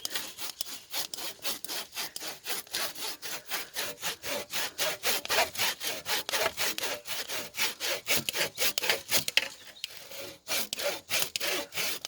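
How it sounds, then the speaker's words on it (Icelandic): A hand saw cuts through the wood of four-year-old young trees with a steady back-and-forth rhythm of rasping strokes, close and fairly loud, continuing evenly for the whole stretch with no talking. "Ég er heppin að ég á sög sem sagar í báðar áttir."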